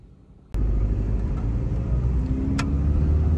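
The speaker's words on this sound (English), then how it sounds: "We're just driving around Trafalgar Square" A car drives around Trafalgar Square in central London, its steady engine and road rumble starting abruptly and holding loud and close, with a brief higher sound from the passing traffic.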